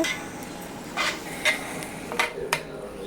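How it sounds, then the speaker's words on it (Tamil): Vegetables for a large batch of veg biryani are stirred in a big pot, giving a few sharp metal scrapes and knocks of a ladle over a soft, steady background. "எல்லாத்தையும் நல்லா போட்டு மிக்ஸ் பண்ணிவிட்டு"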